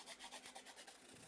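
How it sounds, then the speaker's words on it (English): Close, steady rasping of a nail file worked back and forth across fingernails to remove their shine, in quick even strokes. "I'm going to grab a file and I'm going to file the shine of my nails"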